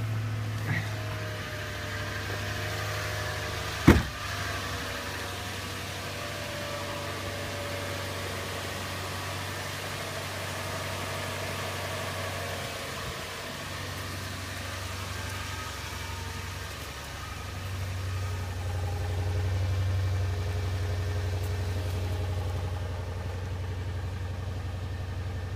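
A 2005 Toyota Tundra with a 5.7-liter iForce V8 idles steadily at close range, a low even rumble with one sharp knock early on and a slight swell in the engine note near the end.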